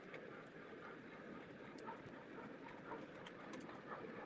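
A model train runs continuously on a layout, a steady, faint rolling rumble with light metallic clicks scattered throughout, heard alone without talk.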